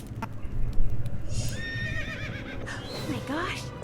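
A phantom horse neighs in the Nancy Drew game Secret of Shadow Ranch, a clear wavering whinny rising through the middle and end of the short scene, with hoof clip-clops and some background voice beneath it.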